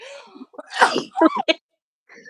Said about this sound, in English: hold on, I feel like I'm gonna sneeze now.